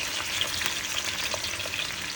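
Curry leaves and fenugreek crackle and sizzle in hot oil before fish is fried. The frying is close and steady, with small pops, and no one talks.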